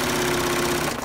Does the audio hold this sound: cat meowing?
no